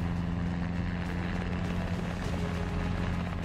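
Constant droning rotor and engine noise of a Robinson R44 helicopter with a 260-horsepower engine, flying over the Australian outback, loud and steady throughout with no talking.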